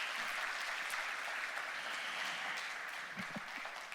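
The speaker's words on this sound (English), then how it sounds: "Let's start with a round of applause for Dubai." Dense, steady applause from an audience at a fireside chat event, a continuous wash of many hands clapping at even loudness for several seconds with no voices on top.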